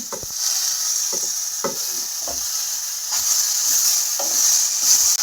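Steady sizzling of kurpo greens frying in a pan, with intermittent stirring scrapes and clinks throughout; no talking.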